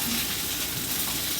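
Pork browns in a hot pan with a steady, close, even sizzle throughout, ending in a short thump.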